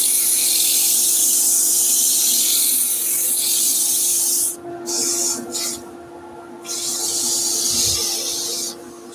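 Hollowed wooden bowl being hand sanded with 100 grit abrasive, a loud, continuous close-up scratchy rasp that breaks off briefly a few times before resuming.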